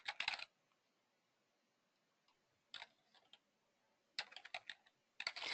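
Bursts of computer keyboard typing during a software training session, with short rapid clusters of key clicks separated by pauses, fairly close and moderately loud with no voices.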